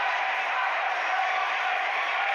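Stadium crowd applauding Indian weightlifter Mirabai Chanu after a lift, a dense, steady wash of clapping and cheering that holds at an even level throughout.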